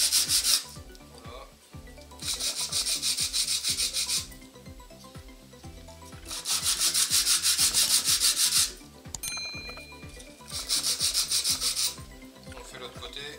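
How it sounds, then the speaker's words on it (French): Plexiglass edges rubbed by hand to chamfer them, a dry abrasive scraping in three long bursts of steady back-and-forth strokes separated by short pauses, close and fairly loud with no talking. "Et maintenant on va essayer de chanfreiner un petit peu les bords."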